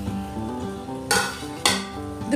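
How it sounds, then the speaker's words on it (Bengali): Sweet potato pantuas are dropped into boiling sugar syrup, with two sharp splashy clatters against the pot over a steady bubbling background, close and fairly loud. "রসটা ফুটে গেছে, আমি রসের মধ্যে পান্তুয়াগুলো দিয়ে দেব"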